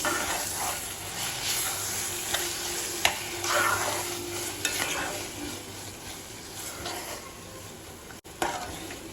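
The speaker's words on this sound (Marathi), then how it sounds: "आपल्याला टाकायचं आहे ह्याच्यात हे वाटण ओके आणि हे वाटण ही प्रॉपर असं परतून घ्यायचं आहे आपल्याला" Ground masala paste of onion, tomato, dry and fresh coconut and green masala is sautéed for garlic mutton, giving a continuous close sizzle with scattered spoon scrapes and clicks, no voices.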